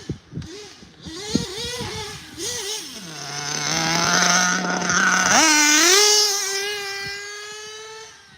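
An RC car whines past at three-quarter throttle, its high electric-motor pitch rising and falling as it speeds up, holds a steady tone, then climbs again, getting louder as it nears.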